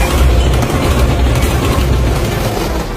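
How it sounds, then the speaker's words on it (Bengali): A loud, steady roar of an express train rushing close by, dense rumbling and rattling throughout with no clear whistle standing out. "প্রবল শব্দ করে হুইসেল দিতে দিতে একটা এক্সপ্রেস ট্রেন আসছে।"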